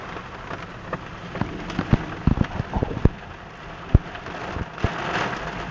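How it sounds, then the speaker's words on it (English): Heavy rain in a storm, a steady wash of rainfall with scattered sharp drops and knocks striking a nearby surface, fairly close and moderately loud. "Wow, it's heavy rain."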